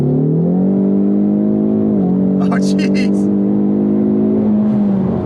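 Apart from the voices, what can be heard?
EcoBoost Mustang accelerating hard in drag strip mode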